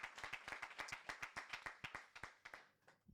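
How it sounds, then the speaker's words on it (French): A church congregation claps along in a quick, steady rhythm, many hands striking together close by before the clapping fades out at the end. "Acclamons le Seigneur notre Dieu."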